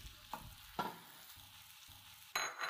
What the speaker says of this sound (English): Sausage meat is cooking nicely in there.